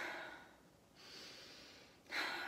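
A person demonstrating high chest breathing in a singing lesson: two or three close, airy inhalations and exhalations with breathy hiss, the final one sharper and louder, with no talking.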